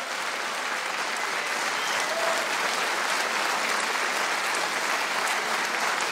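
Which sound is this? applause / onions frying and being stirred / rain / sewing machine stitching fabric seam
applause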